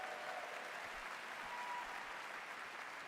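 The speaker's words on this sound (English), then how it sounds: "a round of applause for our amazing devs" Steady applause from a large audience at the Game Awards ceremony, a dense, continuous clapping wash held at an even level from start to finish.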